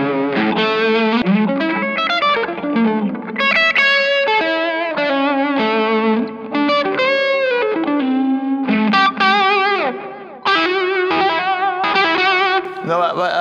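Electric guitar played through a Brian May Red Special tribute guitar with all pickups on, effects and distortion giving a fat, singing lead tone; melodic phrases with sustained notes and slides, loud and close, alone without talk.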